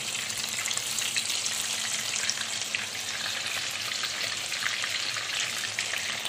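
Chilli pakoras deep-fry in hot oil, a dense, even bubbling sizzle running unbroken and close throughout, with no voices.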